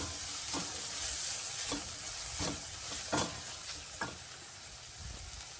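Frozen green peas sizzle steadily in a frying pan, with several distinct spatula scrapes and taps standing out at irregular intervals from a close, dense hiss.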